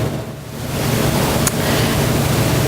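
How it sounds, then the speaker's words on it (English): Irrigation water drains from a potted plant into a receptacle with a steady, loud, close rushing hiss that swells after a quiet start and then holds even, with no talking. "As you can see, the water is now draining from the plant."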